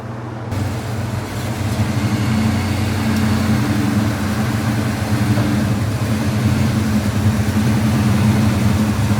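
A 1980 Dodge Ramcharger's engine running steadily, a close, low, rumbling idle with a constant throb and no talking.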